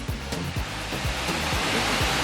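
A waterfall at Cachoeira do Cleandro near Itacaré, Bahia, Brazil, pours as a continuous broad rushing roar, steady and loud, with a few low thumps from nearby movement and no speech.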